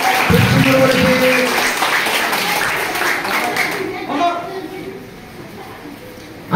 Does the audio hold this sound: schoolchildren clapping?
yes